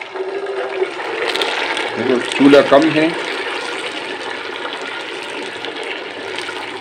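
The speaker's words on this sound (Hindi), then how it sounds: "अब इसमें मैं डाल रहा हूँ पानी।" Water is poured into a pan of browned, caramelized sugar for suji halwa, sending up a loud rushing hiss and bubbling surge that settles into a steady sizzle while someone speaks.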